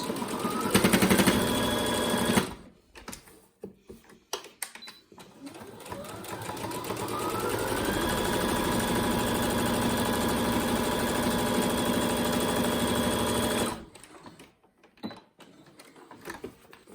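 Close, steady whirring of a sewing machine running over thick fabric face mask seams, with brief clunks and pauses before and after a long continuous stretch of stitching.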